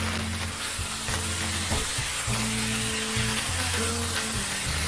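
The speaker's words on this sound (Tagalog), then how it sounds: "iba-browning ko lang yung pork" Pork sizzles and fries in a hot pan, a dense continuous crackling hiss throughout, with low stirring and scraping underneath.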